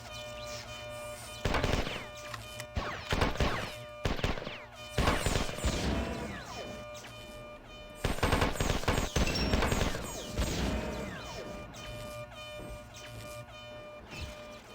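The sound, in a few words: gunfire from an enemy in the video game Marathon 2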